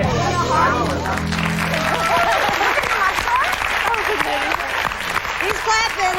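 A TV talk show studio audience applauds and cheers steadily throughout, with people talking and shouting over the clapping.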